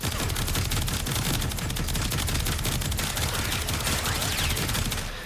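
Rapid automatic gunfire in the sci-fi shooter Warframe, a loud, continuous stream of shots over several seconds that tapers off slightly at the end.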